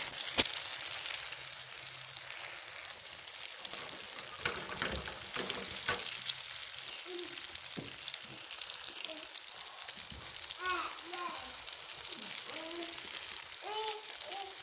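Spice masala frying in a pan with a continuous close sizzle and occasional stirring scrapes; a faint voice comes in toward the end.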